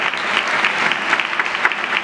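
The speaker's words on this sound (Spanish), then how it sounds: "Aplauso por la salida." Dense, steady applause from an audience at an occupational risk prevention congress, a continuous wash of many hands clapping close by with no speech over it.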